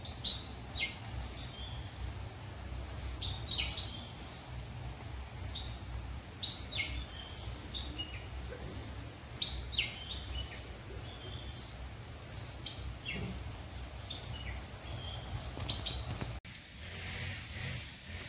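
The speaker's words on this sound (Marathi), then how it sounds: "पक्ष्यांचा आवाज येतोय बघा, ऐका शांत" Small birds chirp and tweet in scattered short calls among the green trees of a Konkan village in rainy-season weather, faint and somewhat distant over a soft steady background hum.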